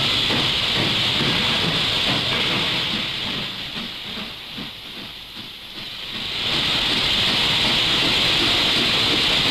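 Train running on a full-scale railway layout used for training, a steady hissing rumble with faint clicking that dips quieter in the middle and then swells back up.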